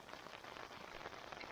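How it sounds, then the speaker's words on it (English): Rain falls on a backpacking tent at a mountain campground, a faint, even patter of drops on the fabric, soft and continuous from inside. "It just started to rain."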